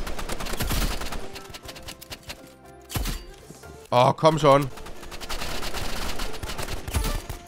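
Gunfire in the shooter game Roblox Rivals comes in several loud, close bursts spread across the stretch, while someone talks excitedly in German between and over the shots.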